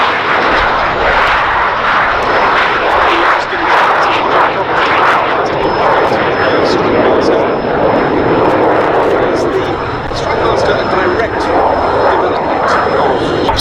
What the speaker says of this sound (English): Then it was further developed into the Strikemaster ground attack aircraft